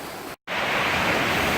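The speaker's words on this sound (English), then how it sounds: "You can hear the water turning all the rocks" Sea waves surging into a sea cave along a rocky cove trail, a steady close roar of rushing water churning rocks, broken by a brief dropout before the surge continues loud and unbroken.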